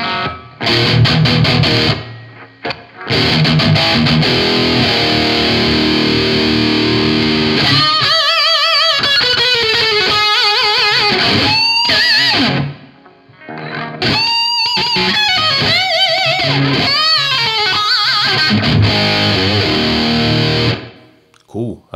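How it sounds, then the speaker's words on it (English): Heavily distorted electric guitar through a Nux Reissue Series high-gain distortion pedal, with aggressive, saturated riffs and bending lead lines, loud and close, broken by brief pauses. "this one must be a high gain pedal"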